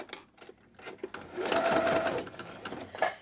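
A sewing machine stitches quilt fabric for an Ohio Star block, running a steady close whir that builds in the middle and holds for over a second, with faint handling sounds before and after.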